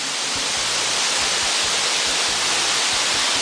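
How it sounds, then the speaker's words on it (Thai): At the top of Tad Bong waterfall, falling water makes a constant, loud hiss with a low rumble beneath it, steady and unbroken. "อันนี้เป็นบรรยากาศด้านบนของน้ำตกนะครับ"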